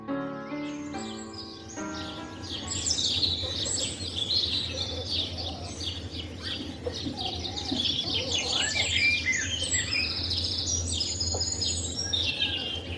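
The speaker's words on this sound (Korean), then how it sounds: "어디선가 깊은 숲속의 새소리가 들려올 것만 같죠?" Birds chirp and sing continuously in a secret garden at a rehabilitation care home, with many overlapping high calls at steady, moderate loudness above a low background hum. A brief tonal musical phrase opens the scene.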